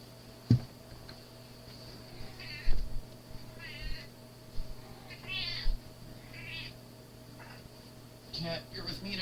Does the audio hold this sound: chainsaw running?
no